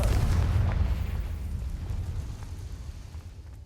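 A Confringo blast spell explodes in Hogwarts Legacy: a loud, deep burst that rumbles and slowly fades over a few seconds, with no voices.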